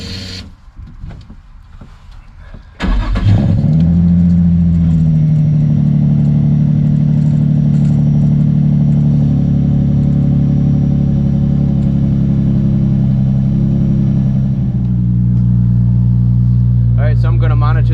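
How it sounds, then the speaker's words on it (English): A Nissan 350Z engine cranks briefly and catches, then settles into a loud, steady idle that holds close for many seconds before easing slightly lower, with a faint mechanical whine near the end. "I'm gonna go ahead and fire up the car"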